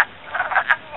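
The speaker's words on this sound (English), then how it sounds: "They're all wood frog calls." Wood frogs calling from a vernal pool, a run of short clucking croaks bunched together at moderate loudness with no voices.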